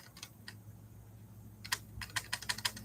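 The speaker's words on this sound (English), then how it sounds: "You can only type so much." Fingers type on a computer keyboard, close and quiet. A few scattered keystrokes give way to a quicker burst of clicks.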